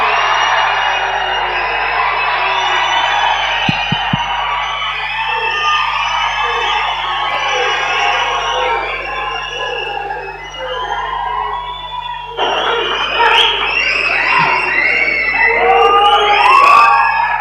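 A business conference crowd in a hall cheers with loud, sustained whoops and yells that swell and shift throughout, with clapping mixed in.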